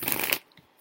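A deck of tarot cards is shuffled up close in a brief papery riffle that stops abruptly, followed by a faint soft tap as a card is drawn.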